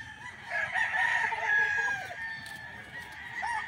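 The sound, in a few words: Sweater breed broodcock rooster crowing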